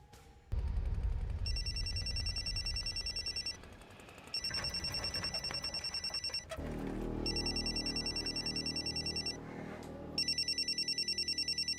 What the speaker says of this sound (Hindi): माँ, फोन।